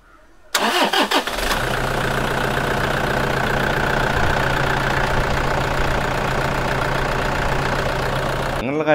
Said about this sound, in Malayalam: ഇനി എഞ്ചിൻ്റെ കാര്യമാണെങ്കിൽ കോൾഡ് സ്റ്റാർട്ട് ചെയ്ത് നോക്കുക.